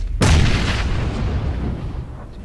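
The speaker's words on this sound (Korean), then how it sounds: "계속, 왔다 갔다 하면서 수류탄 던지네." A grenade explodes in the battle royale game PUBG, one sudden loud close blast with a long rumbling decay trailing off over two seconds.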